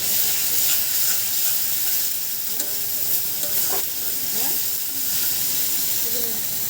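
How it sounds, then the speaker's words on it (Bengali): Turmeric and cumin powder sizzle and fry in a pan as they are stirred for a khud pulao, a steady close hiss with occasional scraping strokes of the spoon. "দিয়ে মশলা ভালো করে কষিয়ে নেব"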